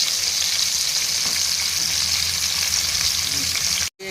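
Tomatoes fry in a pan for a restaurant-style egg curry, giving a dense, even sizzle throughout that cuts off abruptly at the very end.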